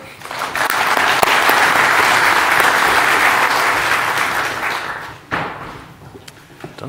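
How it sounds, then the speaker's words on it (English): Warm applause from a networking conference audience at NLNOG 2019, a full, sustained burst of clapping that swells, holds steady, then tapers off, with a brief louder flurry near the end before dying down. "Warm applause for Ben"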